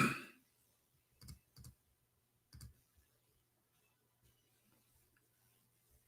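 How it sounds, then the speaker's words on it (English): Isolated clicks in small clusters of computer keyboard keys being pressed, sparse and fairly quiet, spread across a near-silent room. "Let me type it for you on the screen."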